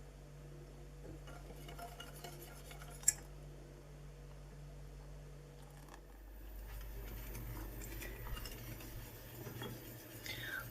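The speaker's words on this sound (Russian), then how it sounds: "Постоянно помешивая," A spoon scrapes and stirs a pot of milk, starch and agar cream with a steady, quiet rhythm, a low hum underneath and one sharp clink partway through.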